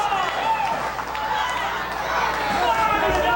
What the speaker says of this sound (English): And listen to this crowd, John.